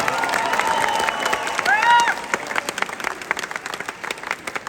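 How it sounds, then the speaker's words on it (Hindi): Audience at a Pakistani community mushaira poetry gathering breaks into applause and some cheering to welcome a guest, a dense burst of clapping that thins into scattered claps, with voices mixed in. "तो इनको इस्तकबाल करने के लिए ज़रा तालियां बजाइए"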